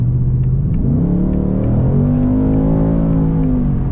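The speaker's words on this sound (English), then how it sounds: "The steering is heavy, but let me punch it here." A 2024 Ford Mustang GT in base trim, driving in normal mode, accelerates hard at full throttle, its close engine roar climbing steadily in pitch with a deep rumble underneath and no talk.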